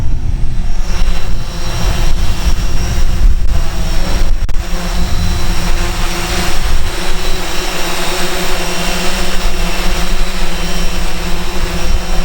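A Yuneec Typhoon H drone flies nearby with a loud, steady whining buzz of its rotors, constant in pitch and level throughout, with wind noise mixed in.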